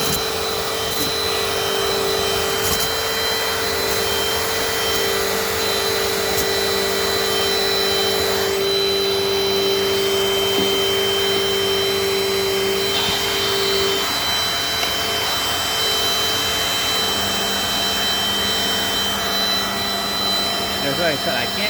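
A Dirt Devil Dynamite Plus vacuum cleaner runs continuously up close, a loud steady whine with a constant motor hum and slight pitch shifts as it works over the floor.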